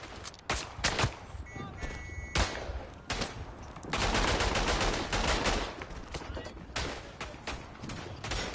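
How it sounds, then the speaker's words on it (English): Gunfire from a German machine gun in a WW1 trench-warfare video game, heard as loud, sustained bursts of rapid shots with brief pauses between volleys. "let's check out this other German machine gun here"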